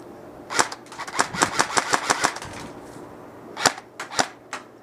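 A KWA SR10 2GX airsoft rifle fires roughly a dozen sharp, snappy shots: a quick run of semi-auto pops, then a pause and a few more spaced shots, loud and close with no talking.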